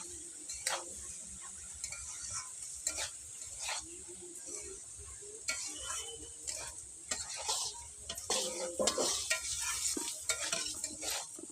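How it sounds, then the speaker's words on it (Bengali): Washed lentils are stirred and fried in a pan, with a light sizzle under repeated clacking scrapes of the spoon, busier and louder toward the end, and no speech. "ডালটাকে একটু ভেজে নেবো"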